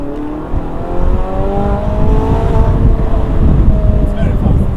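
A Ferrari 458 Italia accelerates hard on a test drive, its engine rising in a loud, continuous climbing roar heard from close by, with wind rush in the background.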